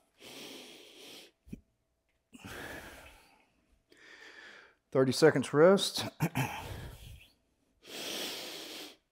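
Heavy, ragged breaths during a rest from a kettlebell leg workout, several loud exhales and gasps separated by pauses, with someone talking briefly in the middle.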